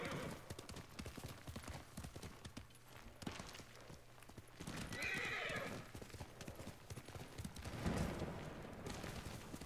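Horse hooves clip-clop steadily in Ghost of Tsushima Director's Cut on PS5, a close, continuous trotting rhythm with a brief whinny near the end and no talk over it.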